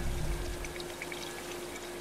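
Helicopter water tanker in Life is Strange 2 drawing up water over a wildfire zone, a steady rushing, pouring wash with a low rumble that starts heavier and settles into a constant flow.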